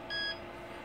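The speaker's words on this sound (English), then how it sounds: "you heard the beep," A single short electronic beep from an Anycubic i3 Mega 3D printer confirming saved settings, clear and fairly quiet, followed by faint background hum.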